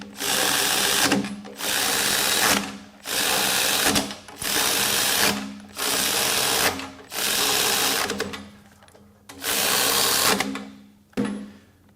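Milwaukee M12 cordless ratchet running down fasteners: a close, loud buzzing whir repeated in seven or eight bursts of about a second each, separated by short pauses, with no talking.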